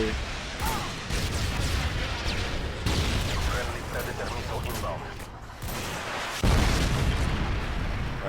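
Missile blast and battlefield rumble in Call of Duty Modern Warfare 2 Ground War on the Highrise map, loud booming bursts over a dense, continuous din with voices chatting throughout.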